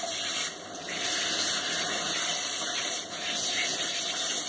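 Water runs steadily from a shower sprayer during a bath rinse, a continuous close hiss with brief dips in flow.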